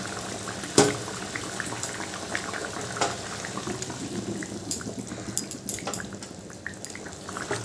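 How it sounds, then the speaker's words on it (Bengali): A pot of vegetarian curry gravy with potatoes simmers and bubbles as fried koftas are added, giving soft wet plops and splashes over a steady low boiling rumble, close by with no talking. "ঝোলটা ফুটে গেছে এবার আমি ভেজে রাখা কোপ্তাগুলো দিয়ে দিচ্ছি"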